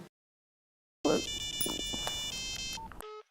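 Electronic telephone tones: a sustained, steady tone ends in a few short beeps, clear and fairly loud after a second of silence, with faint voices in the background.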